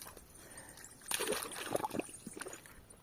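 Dogs splash and play in muddy water early in the morning. Faint sloshing gives way to a burst of close, wet splashing and gurgling that continues in uneven bursts.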